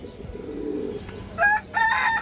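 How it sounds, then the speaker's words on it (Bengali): A white army pigeon gives a low, murmuring coo, followed by two brighter, sharper calls from a bird nearby, heard close and alone without any voices. "এটা একটা সাদা আর্মি কবুতর"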